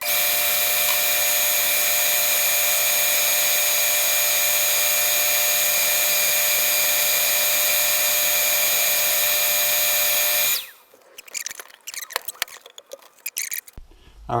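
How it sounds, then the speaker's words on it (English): A power drill bores holes in wood with a loud, steady whine that runs for about ten seconds, then stops and gives way to scattered clatter and handling noise. "I'll just drill a bunch of holes."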